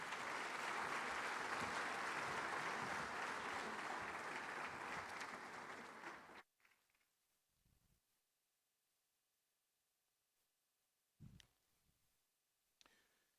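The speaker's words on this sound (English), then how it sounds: "Another round of applause, please," An audience at a large conference of a pan-African bank applauds in a dense, sustained roar of clapping that lasts about six seconds, then fades abruptly into near silence broken by a few faint knocks and rustles.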